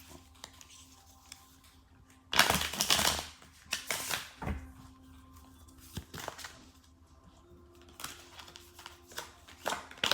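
Cards from a Steampunk tarot deck being shuffled in a few quick, crisp riffling bursts with short pauses between, close and fairly quiet, no talking.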